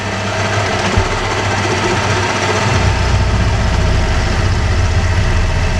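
A milling machine cutting with a 10 mm end mill, a loud continuous mechanical whine and rumble that deepens and roughens partway through as the cutter bites into the metal, with no voices.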